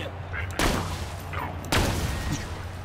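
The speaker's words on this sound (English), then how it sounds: "two shots" Two sharp gunshots in the video game Borderlands 2, about a second apart, each loud and crisp with a short ringing tail over a steady game background, no talk.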